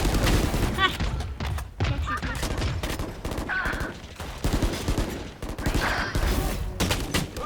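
Missiles and explosions in a video game, a rapid series of sharp blasts and thuds over several seconds while players talk excitedly over them.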